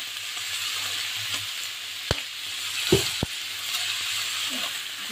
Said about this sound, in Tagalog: gisa lang natin ng konti tapos lagay na natin din ito